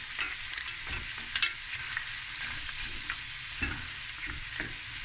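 Prawns frying in a pan for seafood rice, a soft continuous sizzle broken by occasional light spatula clicks and stirring scrapes, fairly quiet and close.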